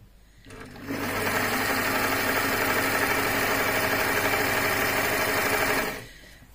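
A HandiQuilter Moxie XL quilting machine stitches through two layers of fabric for a quilted cushion cover, giving a steady, close mechanical whirr that runs unbroken for about five seconds with no talking.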